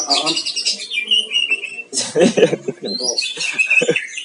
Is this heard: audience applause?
no